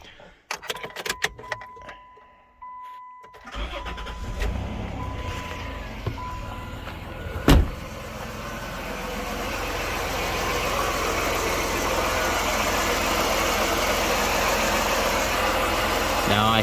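A 1993 Dodge Grand Caravan LE engine cranks and catches after some jingling keys and clicks, then settles into a steady, slightly rising idle. One sharp knock sounds partway through.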